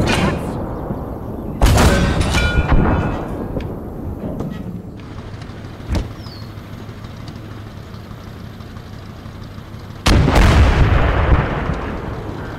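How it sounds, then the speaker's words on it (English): Tank cannons fire in the WWII strategy game Call to Arms Gates of Hell, giving heavy booming blasts at about two and ten seconds and a sharper crack around six. Engine rumble and battle ambience fill the gaps, with no speech. "Oh, there's more tank cannons down there too."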